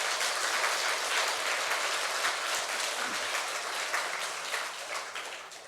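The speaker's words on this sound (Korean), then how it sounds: "우리가 서로를 환영하는 마음으로 박수로 환영하겠습니다." A church congregation applauding together to welcome guests and visitors at a Sunday service, a dense, steady wash of many hands clapping that fills the room and slowly eases toward the end.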